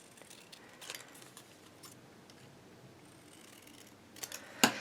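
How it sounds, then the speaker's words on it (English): Scissors cut paper along a drawn line, quiet and close, with a few faint snips and paper rustles before a sharper cluster of cuts at the end. "Now when I cut, I'm going to cut on the inside of that line."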